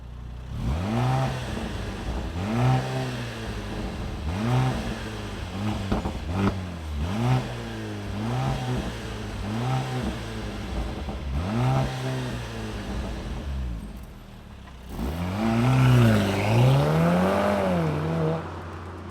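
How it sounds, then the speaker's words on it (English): A 2023 Mercedes-AMG C43 turbo engine starts and revs repeatedly, each blip rising and falling in a steady rhythm, ending with a louder, longer rev climbing higher. "let's fire up this engine and see what it sounds like"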